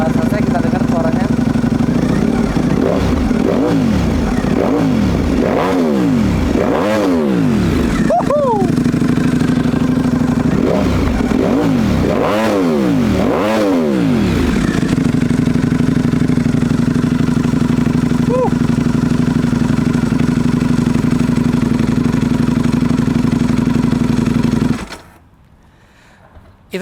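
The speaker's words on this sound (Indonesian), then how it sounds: "Nah sekarang mesinnya udah selesai, kita dengar suaranya." A superbike engine revving up to 12,000 RPM, loud and close, with repeated sharp rising-and-falling revs over a steady idle, then a sustained high-pitched hold before it shuts off abruptly.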